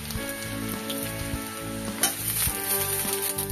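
Onions dropped into hot oil with browning potatoes, a steady close sizzle and crackle that swells as they hit the pan, with faint clinks of stirring.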